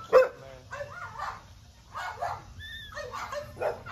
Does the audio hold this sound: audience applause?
no